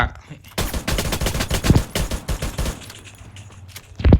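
Rapid automatic gunfire in a shooting video game: dense bursts of sharp shots in quick rhythm, loud and close, then a pause and a final short burst at the end.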